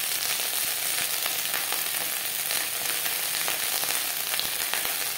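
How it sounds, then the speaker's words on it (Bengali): Jute leaves fry in oil over low to medium heat, giving a continuous close crackling sizzle with faint stirring clicks and no voices. "পাট শাক ভাজবো লো টু মিডিয়াম ফ্লেমে।"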